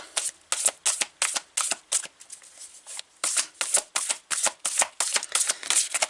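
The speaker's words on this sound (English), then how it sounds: "it's very hard to shuffle because there's two decks" Two mixed oracle card decks riffle and snap in quick repeated bursts, close and crisp, with brief pauses between shuffles and no voices.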